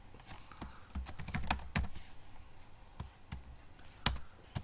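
Typing on a computer keyboard: close, irregular bursts of crisp key clicks with short pauses between them, alone in a quiet room.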